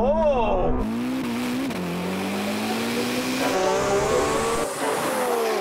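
Ferrari SF90 drag race launch: high engine whine rising and shifting as the car accelerates hard, loud and close, with a faint tire squeal, under a voice.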